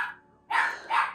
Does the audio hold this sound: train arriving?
no